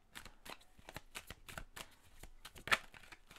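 Oracle cards are shuffled and drawn by hand, a quick series of soft papery riffles and slaps with one sharper snap near the end, close and quiet.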